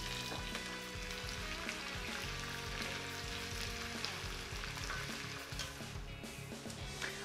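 Onion and green pepper fry in a pan for a chicken dish, giving a steady close sizzle with occasional crackles and the soft scrape of stirring throughout.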